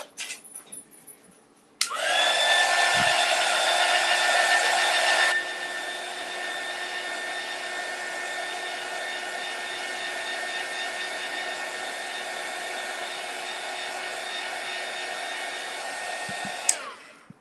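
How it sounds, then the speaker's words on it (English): A heat gun blows hot air to dry a decoupage transfer on a wooden craft sign, a loud steady whine and rush that starts abruptly, drops slightly in level after a few seconds, then cuts off at the end. "I got to grab my heat gun"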